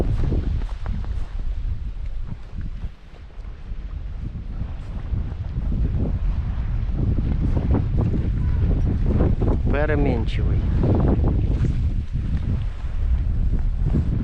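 Strong north wind roars and buffets the microphone throughout while fishing, with someone talking over it near the end.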